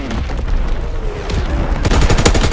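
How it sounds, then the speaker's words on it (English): Incoming enemy artillery fire in a war video game: a steady roar of shelling and rapid gunfire bursts, growing louder and more intense toward the end. "Incoming enemy artillery. Get to cover."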